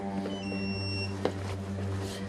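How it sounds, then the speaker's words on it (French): Fire station alarm at the Vandœuvre-lès-Nancy fire brigade barracks, a steady electronic tone with a buzzing hum underneath, sounding continuously at moderate volume with no one speaking. "la première alarme de la journée retentit"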